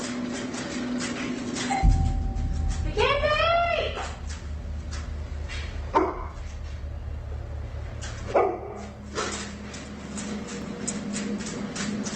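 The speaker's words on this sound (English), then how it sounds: "I mean, the dog's barking." A dog barks several times in short separate bursts inside a home, moderately close, spaced a few seconds apart over a steady low hum, with a brief tone sounding before the first bark.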